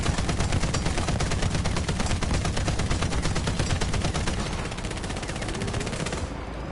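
Sustained rapid machine gun fire from War Thunder, a dense, loud, even burst of shots that runs unbroken for several seconds before cutting off abruptly near the end.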